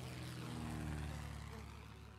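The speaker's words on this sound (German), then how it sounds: "Da fliegt das Flugzeug vorbei." A propeller airplane drones past in the video game 60 Seconds, a steady loud engine hum with layered tones that swells and then slowly fades, heard alone without talk.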